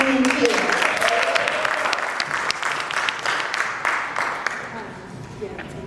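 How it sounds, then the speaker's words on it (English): Loud, dense applause from a large audience at a live showcase, steady clapping with scattered cheers, continuing for several seconds. "So make some noise for Miss Layce Lieu."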